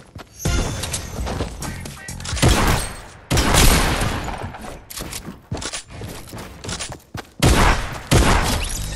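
Loud gunshots in Fortnite Battle Royale, several heavy blasts in separate bursts with brief gaps between them, booming close up and mixed with scattered in-game clatter.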